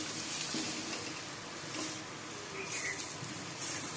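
Potatoes fry in soybean oil in a pan, a steady close hiss and sizzle that runs through the whole stretch with faint stirring clatter.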